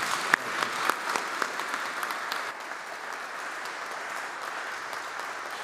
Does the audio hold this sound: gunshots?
no